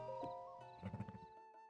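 Horse in The Legend of Zelda: Tears of the Kingdom, a wild horse brought in, with a short run of clopping hoof steps and a soft whinny over a steady game music bed.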